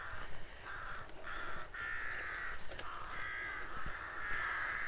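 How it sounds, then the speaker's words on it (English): Repeated harsh cawing from several crows in the countryside at Firsby, Lincolnshire, with calls coming in drawn-out bursts and overlapping one another against a steady outdoor background. "Once again, loads of crows."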